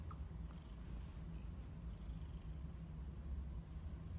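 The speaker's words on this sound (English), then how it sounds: "She's got a slight purr happening." A sleeping cat purrs softly and steadily up close, a faint low rumbling drone that carries on without a break and with no talk over it.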